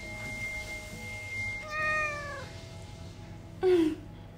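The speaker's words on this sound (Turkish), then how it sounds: "Kedi." A cat meows several times, close and fairly clear, with a drawn-out call midway and a sharper, louder meow near the end over quiet background hiss.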